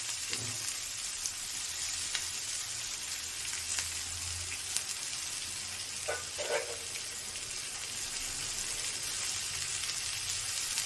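Onions and green chillies sautéing in a pan with chana dal for kuzhi paniyaram batter, a faint, steady sizzle with a few soft stirring clinks midway, quiet and without speech.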